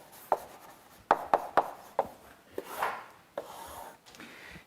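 Chalk taps and scrapes across a blackboard as a graph is sketched during a calculus lecture, with a handful of sharp strokes, some in quick succession, then a longer drawn scrape, close and clear.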